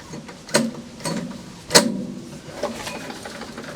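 A wood chipper's pull starter is yanked several times to purge fluid, giving a few loud mechanical ratcheting pulls in quick succession, close by, with no talking.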